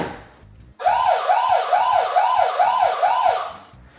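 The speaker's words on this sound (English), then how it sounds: "The camera siren can also be triggered when the camera is forcibly moved or removed from the mount." A loud electronic siren from a Eufy Cam E security camera wails in a rapid repeating up-and-down pattern, about six cycles, starting abruptly and cutting off after a few seconds.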